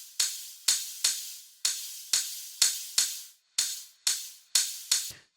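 A white-noise wind synth layered into an Afro house groove, its release time automated: about eleven sharp airy bursts in a steady rhythm, each hissing off in a short decaying tail, heard alone.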